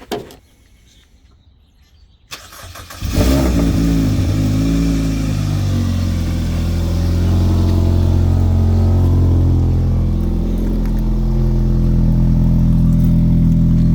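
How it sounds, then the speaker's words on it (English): A car engine cranks and fires up after a rewiring job, following a quiet stretch and a few clicks, then settles into a loud, steady idle close by that continues to the end. "I'm gonna start the car because it's been a minute"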